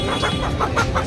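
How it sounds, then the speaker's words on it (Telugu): Native country chickens cluck repeatedly in pulsing bursts at the Erragadda Sunday market, their calls close and steady over constant crowd and market noise. "నాటుకోడిలు అంటారు నాటుకోడి"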